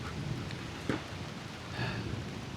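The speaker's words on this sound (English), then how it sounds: "Oh, it's starting to rain, cool." Rain beginning to fall outdoors, a soft, steady hiss of drops with a few slightly louder patters, and no voices.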